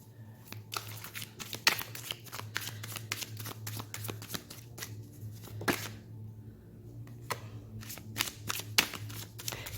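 A deck of tarot cards is shuffled by hand in quick, crisp riffles and slides, close and continuous, with soft low background hum and no talking.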